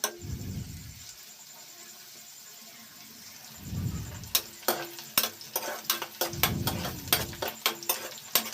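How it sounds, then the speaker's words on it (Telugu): Onion slices fry in oil for a chicken biryani, a quiet sizzle broken by a run of sharp spoon scrapes and taps as they are stirred, with some dull handling thumps. "పొయ్యి మీద సరిపడగా నూనె వేసుకుని ఉల్లిపాయ ముక్కలు బాగా దోరగా వేగేదాకా కూడా బాగా వేయించుకోవాలి."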